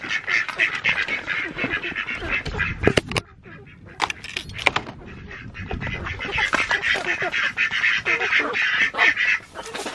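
Homestead poultry in a straw-bedded pen, a busy flock giving off overlapping quacking, honking squawks and clucks, close and fairly loud, with brief quieter gaps and some scuffling in between.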